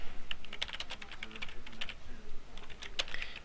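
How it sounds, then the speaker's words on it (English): Rapid typing on a computer keyboard, with close, crisp key clicks in an irregular but steady burst and no voices. "type your main title again"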